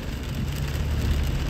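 Steady rain falling on a rainy day, with road traffic on a three-lane street, a continuous broadband hiss with a low rumble beneath, loud and even throughout with no talk.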